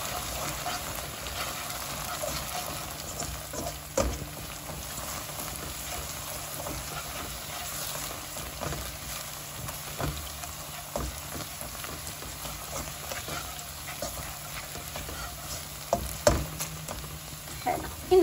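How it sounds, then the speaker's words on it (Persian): Steady sizzling from a frying pan as sugar is stirred in, with occasional scraping clinks of a spoon stirring, continuous and close, no voices. "همش میزنیم"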